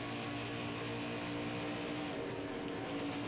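A NASCAR stock car engine in NASCAR Heat 5, a steady droning roar held on the throttle, close and constant, with the pitch shifting slightly near the end.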